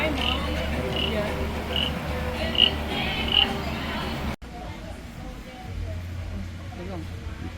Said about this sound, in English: It's a wooden frog.